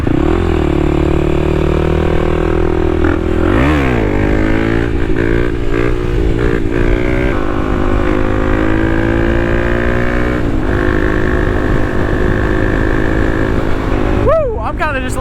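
A Kawasaki KLX300 dual sport motorcycle riding on back roads in warm weather, its engine droning loud and close throughout, rising and falling in pitch as the rider shifts and revs, with wind noise over it.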